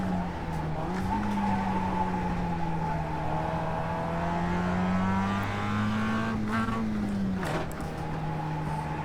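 A race car in the iRacing sim drones at a steady pitch, then the engine note wavers and drops as a gear shift is missed, with tire squeal layered over the continuous motor and a faint voice nearby.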